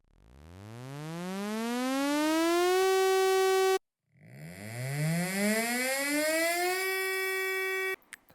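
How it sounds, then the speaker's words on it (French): A school intrusion-alert security siren wails upward from a low pitch to a steady, loud electronic tone, cuts out briefly, then climbs again in a second, slightly rougher rise before stopping abruptly. "il existe quand même la sirène du plan particulier de mise en sécurité"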